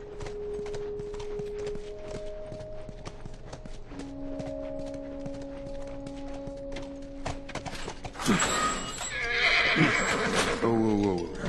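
A horse in The Last of Us video game whinnies loudly near the end, with hooves clip-clopping and game ambience underneath, after steady tones and a voice earlier.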